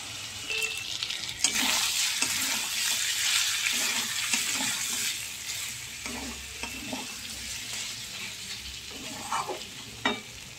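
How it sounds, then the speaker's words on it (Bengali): Mutton curry for a rice-and-potato khasir mangsher jhol is sautéed in a pan with a little hot water, giving a steady sizzle broken by scraping stirs and light clinks throughout. "এটাকে আবার একটু ভালো করে কষিয়ে নেব"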